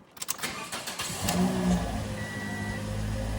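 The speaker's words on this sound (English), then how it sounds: "Turn the key to the off position. Start the vehicle." A 2014–2019 Toyota Corolla engine cranks and fires, a brief starter whir settling quickly into a steady, close idle.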